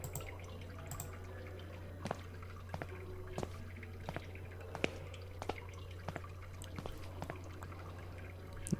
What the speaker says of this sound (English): From the pipe flows grimy water,